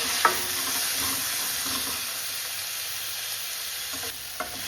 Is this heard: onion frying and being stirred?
yes